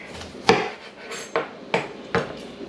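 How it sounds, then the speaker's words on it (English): A knife cuts the top off a fresh, ripe pineapple in four sharp crunching chops spaced about half a second apart, each a crisp, close thud against a cutting board. "I'm going to just slice off the top"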